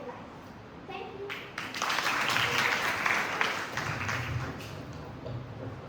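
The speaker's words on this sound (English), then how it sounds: "Let us have a round of applause for that wonderful performance." Audience applause for a performance at a school literary showcase, starting with scattered claps and rising into fuller clapping that holds and then tapers, with children's voices faintly underneath.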